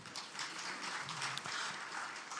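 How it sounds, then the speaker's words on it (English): Faint applause from an audience at a university career fair, a soft, steady patter of clapping heard from a distance. "Another round of applause for Council."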